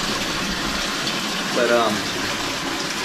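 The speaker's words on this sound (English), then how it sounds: "creek coming through the cave" A creek flows through a cave with dripping rock all around, giving a dense, continuous rush of water that fills the space, with a brief voice over it.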